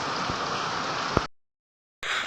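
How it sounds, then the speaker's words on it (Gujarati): Heavy rain pouring down in a village, a dense steady hiss of falling water that cuts out abruptly into silence for about a second before resuming just as loud. "ફૂલ વરસાદ ચાલુ છે"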